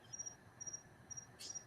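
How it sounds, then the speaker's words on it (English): Crickets chirping in short repeated bursts, steady and fairly faint against a low background hum, with one brief sharper chirp near the end. "Paul, you're hearing crickets because that's coming from Gary's end of the world, because there's crickets"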